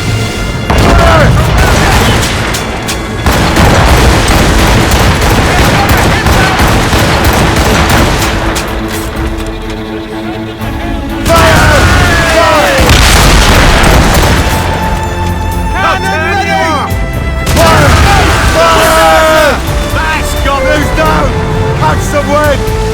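Ship cannons firing in a naval battle in Assassin's Creed Rogue, heavy booming volleys rolling in dense succession, loud and close, with shouted crew orders and music layered over the gunfire.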